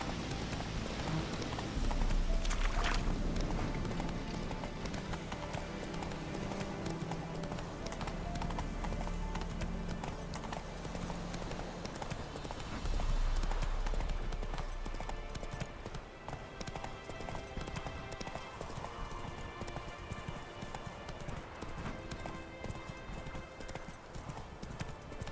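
Horse hooves galloping in The Witcher video game, a continuous close clatter of hoofbeats with an occasional whinny, set against game music and ambience.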